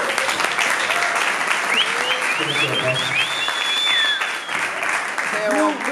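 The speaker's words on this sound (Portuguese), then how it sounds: "vamos dar palmas para Tanchi Vitor." Audience applause at a Fuckup Nights talk event, a loud continuous burst of clapping from a crowd, with whoops and voices mixed in over the clapping.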